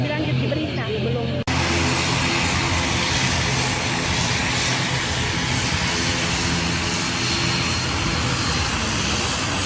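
A roaring propeller airliner engine for around 60 passengers, loud and close. A broad steady drone sets in abruptly after a short noisy opening and holds evenly to the end.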